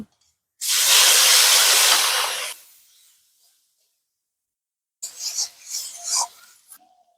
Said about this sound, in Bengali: আজকে সবার প্রথমে আমি মাছের তেলটা ভেজে নেব